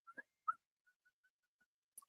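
A few short, faint whistled notes, two sharper chirps at the start followed by a row of soft, evenly spaced pips in an otherwise quiet space.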